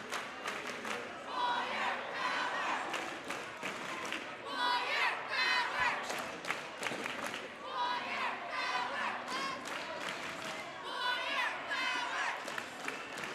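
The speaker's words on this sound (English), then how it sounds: "Quite the crowd from Cle Elum here" Crowd of Cle Elum Roslyn fans at a high school districts game against LR, yelling and cheering in repeated loud swells with scattered claps, while an announcer talks over the din.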